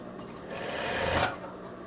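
A sewing machine runs a continuous stitch along a fabric seam of a veterinary coverall, with the presser foot guiding the edge. The whirring is close and steady for nearly two seconds and swells slightly before easing off.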